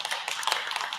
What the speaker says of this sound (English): listen to that crowd erupt